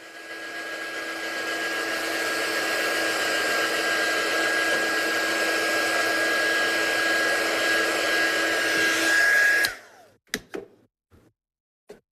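A hair dryer blows steadily and loudly on wet paint on a handmade card, a continuous whooshing hum lasting about ten seconds before cutting off, followed by a few brief knocks.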